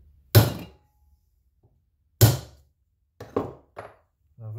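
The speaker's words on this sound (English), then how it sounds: "I'm just going to center punch." Two loud, sharp hammer strikes on a center punch marking aluminium on a Mopar A-body wiper spindle, a clear pause between them, followed by a few lighter metallic taps and clinks close by.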